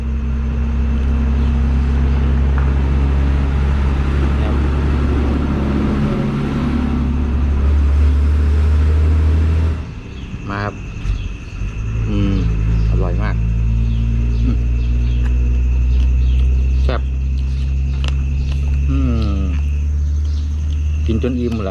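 Steady low rumble of road traffic with cars passing near a roadside meal of herb-roasted rat, engine drone shifting partway through, with people chatting over it throughout.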